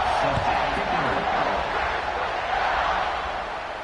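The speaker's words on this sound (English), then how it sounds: "this crowd is buzzing after that last score" A football stadium crowd buzzes loudly and steadily after a score, a dense wall of voices and cheering filling the space with no pauses.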